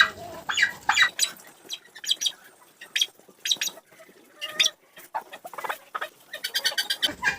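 An excited turkey hen cries in a series of shrill, raspy calls and clucks in quick bursts, fairly close, with brief pauses between them.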